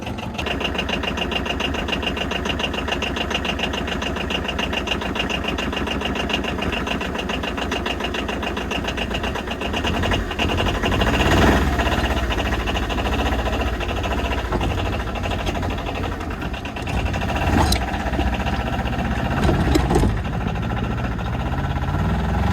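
An Arctic Cat Diesel 700 utility vehicle idles cold while warming up, a steady close diesel clatter with rapid rhythmic knocking that swells slightly in revs toward the end.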